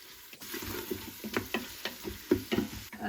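Garlic, ginger and onion frying in a pot for Afghan pacha palau, with a spoon stirring in repeated scraping strokes over a steady close sizzle.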